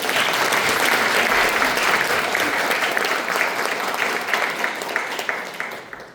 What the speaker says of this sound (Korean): 지금 함께 해주신 모든 참석자 여러분들 모두를 위해서 박수 한번 해주세요